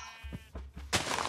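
A Minecraft sheep gives a short series of quick, wavering bleats, followed by a sudden burst of broadband noise at the end, with no speech.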